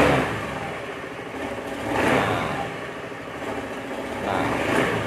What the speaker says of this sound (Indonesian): Kalau kita gas langsung itu dia berebet.